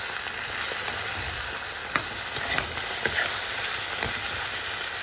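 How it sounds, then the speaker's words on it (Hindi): Green chilies and tomatoes are stirred into onions frying in a pan. A constant sizzle is broken by repeated spatula scrapes and taps every second or so, close and clear, with no talking. "अब हम इसमें डाल रहे हैं ये ग्रीन चिली और टमाटोज, इसको भी अच्छे से मिक्स कर देंगे"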